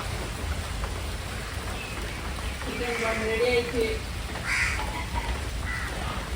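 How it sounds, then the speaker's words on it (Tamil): Steady rain falling outdoors, an even broadband patter throughout, with a crow cawing briefly in the middle over the downpour. "மழையை வந்துடுச்சு"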